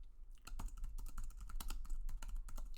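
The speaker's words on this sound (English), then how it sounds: "I'm typing it in the wrong place." Rapid, uneven clicking of keys on a computer keyboard, close and fairly quiet, a steady stream of taps without talk.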